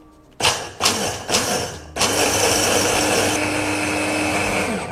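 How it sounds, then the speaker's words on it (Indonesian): A blender grinds pistachios into pistachio butter: three short pulsed bursts whir up and stop, then the motor runs continuously, loud and close, with a steady grinding roar. "Kita akan blender terus sampai dia itu menjadi gumpalan."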